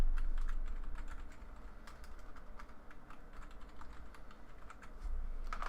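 Keys tapped on a computer keyboard in a steady run of quick, light clicks throughout, close to the microphone with a low background hum and no talking.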